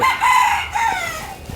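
A rooster crows twice in a village home's yard early in the morning. Each crow is a loud, drawn-out call with a brief gap between them, and no one speaks.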